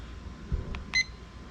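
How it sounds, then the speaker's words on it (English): A cooking thermometer timer for beef jerky gives two short electronic beeps when started, a faint blip followed by a slightly louder one, against quiet room noise. "And we'll start the timer."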